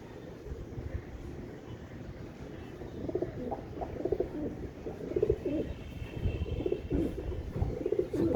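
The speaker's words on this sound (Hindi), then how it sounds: "सुपर क्वालिटी के कबूतर है दोस्तों" Royal Teddy pigeons coo in soft, repeated low murmurs, several birds close together with a steady background hum.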